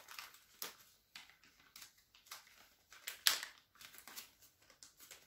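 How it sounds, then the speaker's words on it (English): Close-up crinkling of a plastic bag from an MRE, irregular bursts of crackly rustling with one sharper crunch midway, no voices. "a plastic bag."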